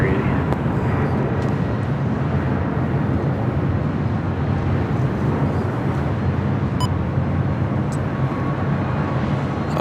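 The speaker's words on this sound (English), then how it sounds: "I was Alaska Airlines Flight 713 heading to Las Vegas. That's 737 at MAX 9." An Alaska Airlines Boeing 737 MAX 9 at LAX gives off a steady, loud broadband jet roar that holds evenly throughout, with voices talking over it.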